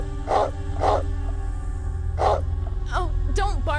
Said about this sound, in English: Oh, don't bark so much.